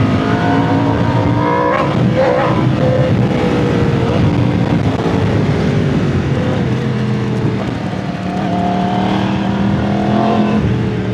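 Yamaha R1 WGP Limited sport motorcycle ridden at a track in Cebu, its engine running loud and continuous with rising and falling revs throughout, no talk over it.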